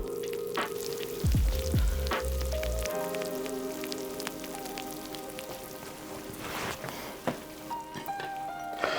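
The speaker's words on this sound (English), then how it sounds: "we just came out of the oven. You can see it's nice and bubbly still. Let's see if we can get some audio." A bubbly baked dish fresh from the oven crackles and sizzles softly up close, with a few clunks of handling early on and scattered small pops and ticks, with no talking.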